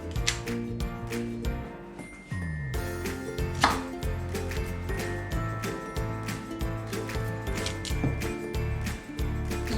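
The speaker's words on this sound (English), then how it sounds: "You have to cut it in the big size." Knife chopping broccoli into big pieces on a board, a steady run of sharp, close cutting taps over a constant musical backing.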